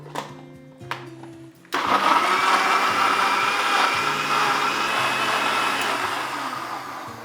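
Kitchen blender whirring through a green weight-loss juice, starting after a couple of short bumps and settling into a loud, steady motor roar that runs without talk to the end.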